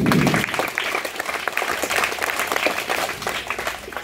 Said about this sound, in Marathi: त्याबद्दल त्यांचे आपण सर्व 3 टाळ्या वाजवून स्वागत करूया